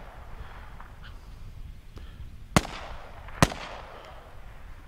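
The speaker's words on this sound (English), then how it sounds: "Demon Hun on the hill putting shots down onto Suzuki" Gunfire in a tactical multiplayer shooter match, two sharp loud reports about a second apart over a low rumbling ambient background, with fainter distant pops around them and no voices.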